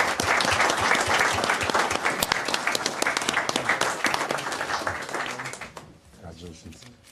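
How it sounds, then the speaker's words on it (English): Applause at a city council meeting for a firefighter honored for long service, dense clapping from the audience that holds strong then tapers off into a few scattered claps, with voices murmuring underneath. "Let's give him a round of applause, ladies and gentlemen."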